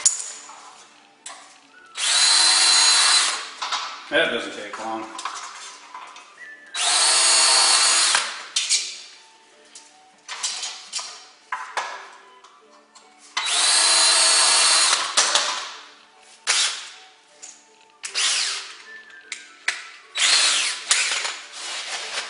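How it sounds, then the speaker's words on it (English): A power drill bores pilot holes through corrugated steel wainscot on a garage wall, several loud whirring bursts of a few seconds each separated by pauses and handling clatter, with a short spoken remark between runs. "we're gonna do a little pre-drilling"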